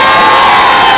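A large crowd of party volunteers cheers and applauds at a political gathering, a loud, dense, continuous roar of shouts and clapping with no pause.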